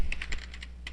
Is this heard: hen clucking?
no